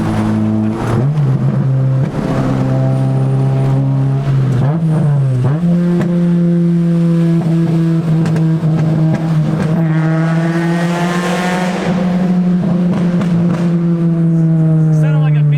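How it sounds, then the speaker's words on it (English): K24-swapped Honda EK Civic hatchback held under light throttle, a loud steady engine drone with harmonics rising and dipping, while people talk over it throughout. "You just gotta barely touch the gas pedal and it just starts crackling."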